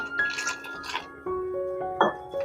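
Water trickles and drips into a bowl of batter for a leftover chapati recipe, with a few light clinks, set against a steady tonal hum.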